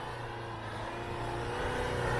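A Chevrolet Niva accelerates hard off-road, its engine droning loud and steady and rising slightly in pitch as it pulls through rough ground, with no talk.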